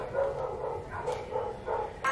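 A dog barks repeatedly in a household setting, a steady run of moderately loud woofs over about two seconds with no talking.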